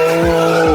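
A Mini Cooper R52 on a racetrack shared with supercars, heard as a brief loud burst of engine tone with a sharp tire squeal or skid sweeping through it.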